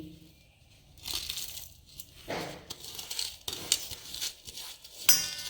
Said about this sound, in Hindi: अब गोंद को हम थोड़ा सा क्रश कर लेंगे इस तरह से।